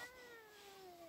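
A cat in a back garden gives a faint, drawn-out meow with a slowly falling pitch, heard from a distance in a quiet outdoor setting.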